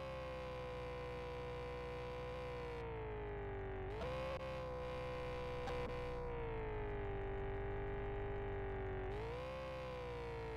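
A fire truck siren in a fire truck simulator game wails, holding a steady tone with slow rises and falls, sounding synthetic and continuous over a low engine hum.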